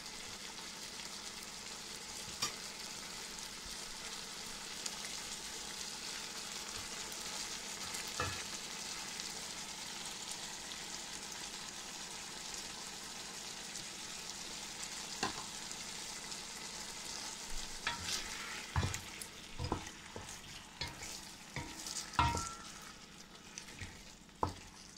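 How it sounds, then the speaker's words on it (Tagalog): Yogurt being stirred into chicken biryani in a hot pan, a steady sizzle running throughout with scraping spoon strokes that grow busier and louder toward the end, no voices. "Mix lang natin para ma-absorb na yung yogurt."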